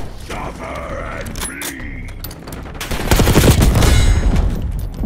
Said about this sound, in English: Sniper threat. HBT is taking fire.